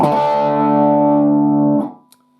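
Overdriven electric guitar rings out a sustained chord, held for nearly two seconds before being muted, followed by a faint string tick.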